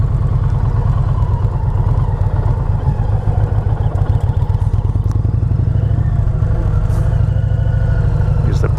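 2020 Indian Challenger motorcycle engine during a slow U-turn, a loud, close, steady low throb with a rapid pulsing beat and light mechanical clatter, holding constant revs throughout.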